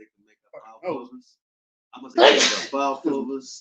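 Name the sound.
sneeze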